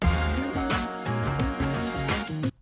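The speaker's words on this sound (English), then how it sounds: "Found this jazzy, soulful instrumental," Jazzy, soulful instrumental sample for a boom bap flip, with warm harmonic chords and a steady rhythmic pulse playing loud and continuous, then cutting off abruptly at the end.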